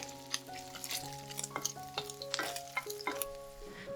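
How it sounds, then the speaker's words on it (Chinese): Pork fat fries slowly in a hot wok over medium heat, a steady close sizzle and crackle broken by scraping stirs of a utensil against the pan, with no talking. "中火慢慢煎猪油"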